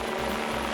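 A London Metropolitan Police air support helicopter's rotor chop, a steady rhythmic thumping over a low engine drone, moderately distant and unbroken.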